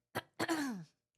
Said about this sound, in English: I've been trying to clear my throat for the last 5 minutes.